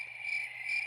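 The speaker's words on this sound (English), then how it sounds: "We almost lost the cricket sound." A steady electronic cricket chirp from a battery-powered sound device, a continuous high trill with slight pulsing, moderately quiet and heard alone.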